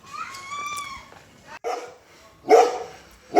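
A dog barks in short, sharp bursts, several in all, starting with a whiny yelp and ending with louder barks, on the way home from the gym in Aizawl, Mizoram.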